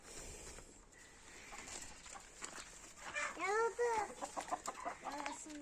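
Chickens and pullets cluck and a rooster calls in the middle, with several bird calls scattered across the clip at moderate distance.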